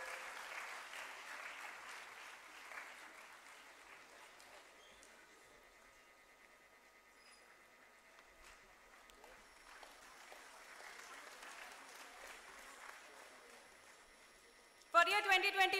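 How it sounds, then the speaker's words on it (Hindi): Applause from the audience at a health sciences university convocation, a sustained wash of clapping that gradually thins, then swells again, with a sharp burst of louder activity at the very end. "A big round of applause for this girl."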